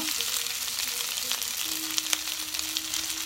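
Rice sizzling steadily in a hot pan as it is stir-fried, a continuous crackling hiss with a few brief scraping clinks from the utensil.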